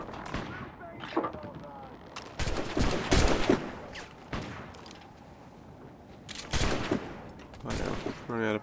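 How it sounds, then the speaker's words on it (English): Pistol shots and gunfire from a pirate ship boarding fight in Assassin's Creed IV Black Flag, several sharp bursts spaced irregularly over a busy battle backdrop, with voices in the mix. "I'm running out of pistol ammo"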